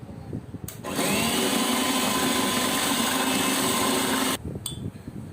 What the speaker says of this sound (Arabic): هضرب بقى القشطه معايا